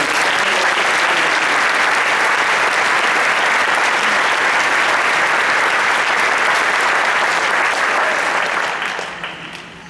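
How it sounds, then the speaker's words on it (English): A large stadium crowd at a marching band review applauds loudly and continuously, a thick, even wash of clapping that holds for nearly ten seconds before tapering off at the end. "Can we give a round of applause and a thank you?"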